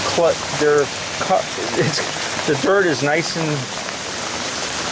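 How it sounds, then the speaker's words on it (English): Steady rain falls outdoors around an air conditioning unit, a constant close hiss of drops on surfaces running underneath a man's speech. "It's raining."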